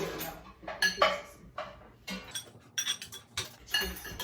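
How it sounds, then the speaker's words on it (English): A spoon stirs taco filling with cilantro in a bowl, giving a series of irregular, close metallic clinks and scrapes against the bowl in short bursts. "you can take our spoon and mix it up"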